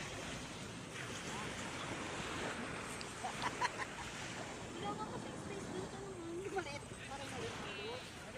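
Strong surf breaking at sea, a steady broad wash of waves with wind noise buffeting the microphone, while people talk and shout nearby throughout.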